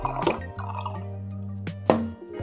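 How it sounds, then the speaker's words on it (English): Beer trickles and drips from a keg tap on a cooler-built portable kegerator, a steady low hum beneath with a few splashy drops, close and fairly quiet. "we should be able to get a pour out of this"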